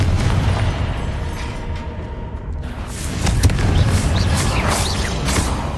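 Confringo fire-blast spell in Hogwarts Legacy going off with a deep booming explosion, rumbling low bursts that swell and crackle, then a second heavier blast with lingering roar.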